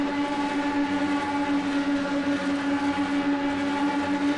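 NASCAR stock cars roar around Daytona near the end of a race, a steady droning engine sound that stays constant and fairly loud with no clear pass-by.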